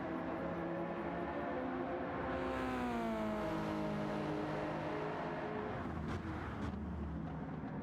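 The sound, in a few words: Subaru BRZ race car engine in video game Gran Turismo 7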